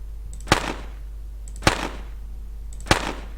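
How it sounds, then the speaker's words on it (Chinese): In a watermelon-merging game built in Cocos Creator, the elimination sound effect plays three times at even intervals, each a crisp, identical pop with a short decaying tail over a faint steady hum. "这个就是消除的时候它的音效，对吧？"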